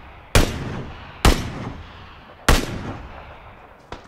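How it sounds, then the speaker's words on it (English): PUBG gunfire: three loud, widely spaced single shots echo with a lingering tail, then a fainter fourth shot. "there's gunfire to your left too"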